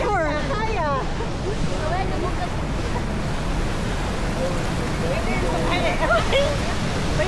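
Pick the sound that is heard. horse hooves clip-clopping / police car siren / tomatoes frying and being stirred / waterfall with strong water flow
waterfall with strong water flow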